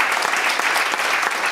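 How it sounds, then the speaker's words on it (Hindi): A crowd claps loudly and steadily through the full stretch at a religious sankirtan gathering, dense applause with no speech over it. "जोर से तालियां बजाइए।"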